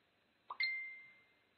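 Soft two-part digital stream notification chime: a quick pluck, then a clear ringing ding that fades slowly. Faint and alone, with no talking.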